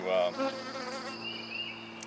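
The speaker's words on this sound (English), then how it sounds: "I'm going to shake the bees" Steady buzzing of honeybees being shaken off a hive frame fills the clip, a dense hum of many bees close by, with a few louder swells near the start.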